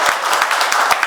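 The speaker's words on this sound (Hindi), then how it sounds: "आपकी तालियां कमजोर पड़ रही हैं" Audience applause at a kavi sammelan and mushaira poetry recital, a steady wash of many hands clapping with a few sharper individual claps standing out, fairly close and even in loudness throughout.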